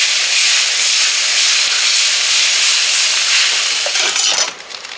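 Ground hamburger meat cooks in a greasy pan, giving a loud, steady sizzle with a broad hiss that holds almost all the way through before dropping off sharply near the end.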